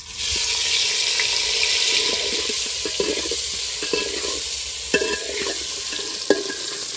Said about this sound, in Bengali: এবার সেদ্ধ করে রাখা আলুগুলো ভেজে নেব।